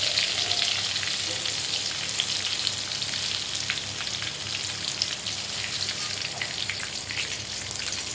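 Small chili bajjis deep fry in hot oil with a dense, steady bubbling crackle that sounds like rain, loud and close, continuing unbroken without any voices.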